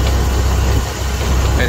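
A Ford Model T engine idles with its spark retarded, giving a loud, close, steady low rumble that holds through the whole moment with only a slight dip.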